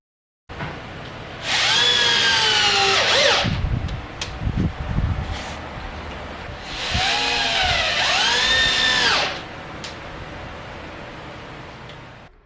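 A power drill drives 2.5-inch screws through 2x4 boards into a wooden headboard, two long whining bursts that rise in pitch as each screw bites and then stops, with knocks and handling noise between, close and loud.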